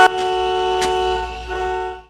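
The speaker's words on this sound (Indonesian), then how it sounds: "Karena panik, Emily membunyikan klakson sekeras mungkin untuk memanggil bantuan." A car horn blares in one long, steady honk, close and loud, lasting about two seconds.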